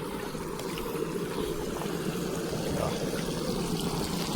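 Irrigation water runs steadily through an onion field, a continuous rushing and trickling flow close by with no breaks and no voices.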